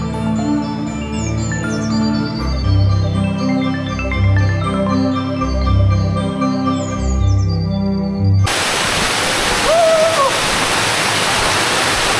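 Shaingong waterfall in Bandarban gives a steady broadband rush of falling water, loud and continuous, partly overlaid by music before the water stands alone.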